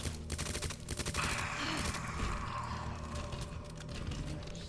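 Rapid submachine gun fire in the video game Resident Evil 2 Remake, a dense loud stream of shots with metallic clinks and a brief heavier burst, continuing throughout with no talking.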